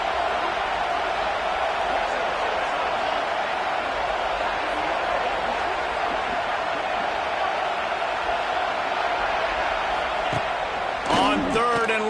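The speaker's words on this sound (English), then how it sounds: "how nice is it to have the home crowd going absolutely bananas" A home crowd roars steadily at a college football game between Miami and Florida State, a dense continuous wall of cheering heard under a commentator's voice.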